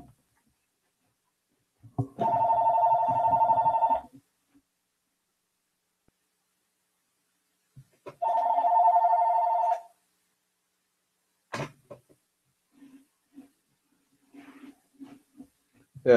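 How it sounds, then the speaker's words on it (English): A telephone bell rings indoors in two clear bursts of about two seconds each, several seconds apart, followed by brief faint rustling. "There's a phone."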